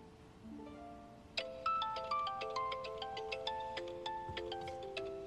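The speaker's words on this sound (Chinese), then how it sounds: "我接个电话啊。" A phone ringtone plays a bright, chiming melody of repeated electronic notes, starting softly then ringing out more clearly in a steady rhythmic pattern, quiet and close in an indoor scene with no talking.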